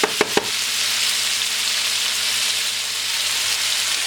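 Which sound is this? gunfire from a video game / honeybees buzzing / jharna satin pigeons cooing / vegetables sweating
vegetables sweating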